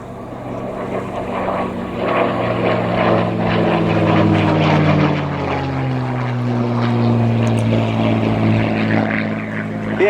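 A P-51D Mustang warbird's propeller engine drones steadily and loudly throughout, with a slowly shifting pitch as the aircraft passes at an air show at Cosford.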